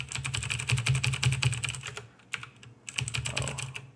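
Fast typing on a Commodore 64 computer keyboard, a steady run of close, crisp keystrokes, then a brief pause and a few more clusters of clicks.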